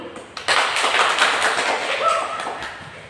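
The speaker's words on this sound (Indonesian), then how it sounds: "kelompok A kita beri aplaus dulu" A classroom group gives a round of applause for group A: dense, continuous clapping from several hands that swells quickly and holds steady for a few seconds.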